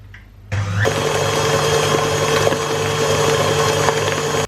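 An electric mixer whirs at high speed through lemon cake batter, switching on abruptly after a brief quiet start and then holding a loud, steady, buzzing drone to the end.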